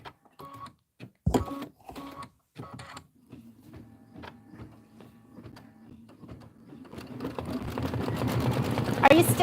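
A sewing machine runs a steady, rising stitching hum while sewing a gingerbread man detail onto linen during a Christmas quilt wall gallery project, entering after an opening stretch of talk and building louder toward the end.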